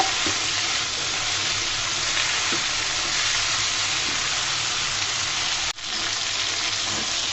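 Okra and potatoes fry in a pan as they are stirred for bhindi aloo, a steady close sizzle and hiss with faint scraping touches and one brief knock, no talk.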